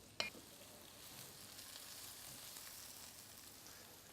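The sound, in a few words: fennel and shallots sizzling in olive oil while stirred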